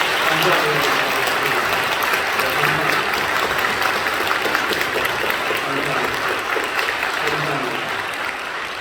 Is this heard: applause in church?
yes